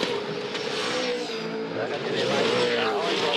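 V8 Supercars roar through a chicane at the 2012 Hamilton 400 street race: loud, continuous engine howl with shifting pitch, close and sustained, with commentary voices over it.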